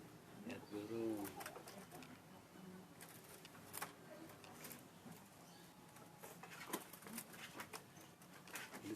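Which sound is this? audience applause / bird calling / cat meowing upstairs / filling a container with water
bird calling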